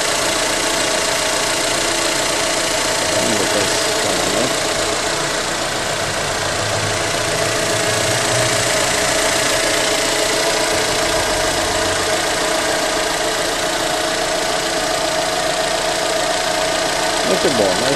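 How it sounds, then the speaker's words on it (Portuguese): A 2013 Fiat Palio Fire Economy 1.0 Flex four-door idles steadily with a smooth, quiet engine hum and a faint knocking pulse throughout, while a person talks over it nearby. "E agora o motor em funcionamento."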